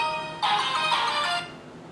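A mobile phone rings with a bright electronic tone lasting about a second, moderately loud and alone, then cuts off into quiet.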